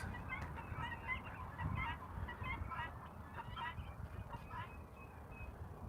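Farmyard chickens and ducks give faint, scattered honking and clucking calls over a low, steady outdoor background.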